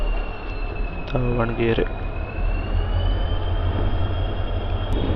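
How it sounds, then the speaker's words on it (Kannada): Diesel engine drone of an EMD WDG4 locomotive hauling a train between Davangere and Hosapete, accelerating steadily, heard from onboard with continuous rumble and rail noise, a horn-like tonal burst near the start and someone speaking briefly over it. "ಆಕ್ಸಲರೇಷನ್ ನೋಡ್ರಿ ಎಷ್ಟು ಮಸ್ತ್ ಐತಿ ಇದ್ರದ್ದು. EMD ಇದು."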